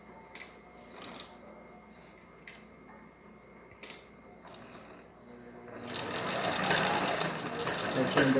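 Sewing machine backstitching to finish a dish towel, scattered clicks and taps at first, then a close, steady whirring run building in the last few seconds.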